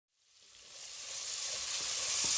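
Squid hitting hot oil in a pan with sautéed ginger, onion and garlic, bursting into a loud, steady sizzle that swells and holds to the end.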